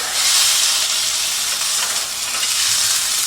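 A miso maple glazed salmon fillet sizzles and hisses loudly in a frying pan after being turned with a spatula, a dense, steady frying noise with no talking.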